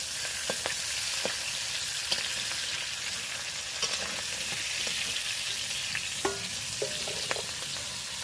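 Crabs frying in ghee in a wok make a constant bright crackling hiss, punctuated by occasional sharp clicks and a couple of spatula knocks near the end, close-miked and without speech.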